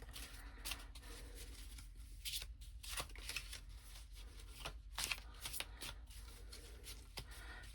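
Oracle cards being shuffled and drawn by hand: quiet, close riffling and sliding bursts of card stock, uneven in rhythm, with soft slaps between them and no talking.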